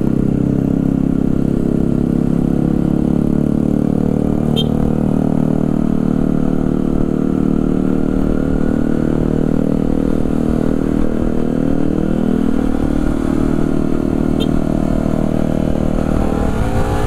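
A Honda CBR250RR 2023 motorcycle ridden in Sport Plus mode through stop-and-go traffic; the engine drones loud and close throughout, with a rising rev sweep in the middle and steady mechanical buzz, no talk.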